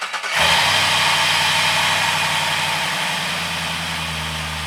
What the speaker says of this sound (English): Starts right up and idles